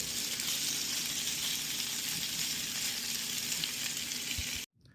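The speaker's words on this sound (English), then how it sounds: "Let's cook them first on an open flame for some time." Potatoes with salt sizzle and fry in an iron wok over an open flame at medium-high heat, a dense, steady crackling hiss that cuts off abruptly at the end.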